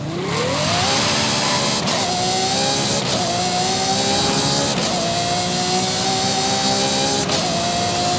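A Ferrari 812 Superfast's 6.5-litre V12 in Forza Horizon 5 screams loudly and continuously, climbing through several gears in a row with a rising whine and brief dips at each upshift.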